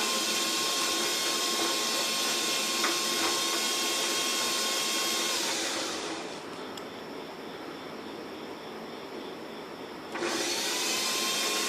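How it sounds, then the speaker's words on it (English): Pellet stove auger motor with a switch control, running as a loud steady whir that drops to a quieter hum midway before surging back up near the end, with no talking. "I can speed this auger up."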